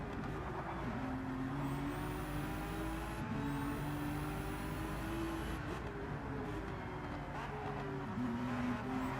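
A Porsche race car in the Nürburgring 24-hour race drones steadily close by, its engine note rising and falling through gear changes, with no voices over it.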